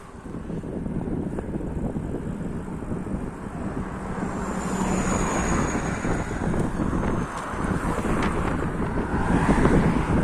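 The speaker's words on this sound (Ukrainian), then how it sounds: "зустрічний вітерець" Headwind buffets the microphone on a bicycle ride, a steady loud roar of wind noise that swells and gusts throughout with no talk.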